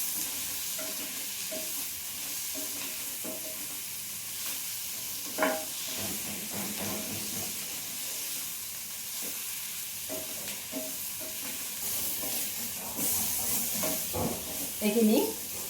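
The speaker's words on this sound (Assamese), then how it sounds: "এইখিনি ভাজিছোঁ এতিয়া।" Potatoes with onions, salt and turmeric fry in a pan, giving a continuous hissing sizzle with occasional stirring scrapes and a few louder clatters near the end, close and steady, with no speech.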